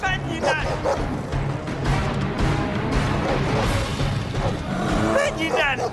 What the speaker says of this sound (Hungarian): Gyerünk, ne ugass, te kutya!